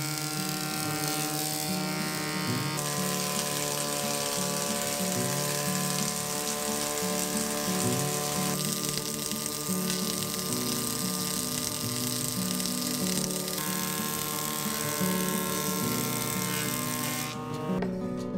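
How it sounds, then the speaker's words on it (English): An electric planer shaves a long, warped wooden deck board, its motor holding a loud, steady whine with a rough cutting rasp through the whole stretch, alone without speech. "Now I'm going to plane it by a planer."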